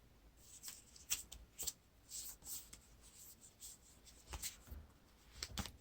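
Playing cards for a Lord of the Rings living card game drawn and handled at a table, giving a run of soft, close sliding and flicking swipes in uneven bursts.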